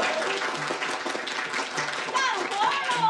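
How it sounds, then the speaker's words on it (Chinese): A group of people bursts into steady, dense clapping for about three seconds indoors, with voices mixed in underneath. "鼓掌！"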